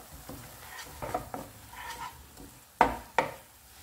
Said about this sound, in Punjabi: ਲੋ ਫਲੇਮ 'ਤੇ ਆਪਾਂ ਇਹਨੂੰ ਥੋੜ੍ਹਾ ਥੋੜ੍ਹਾ ਭੁੰਨਦੇ ਜਾਵਾਂਗੇ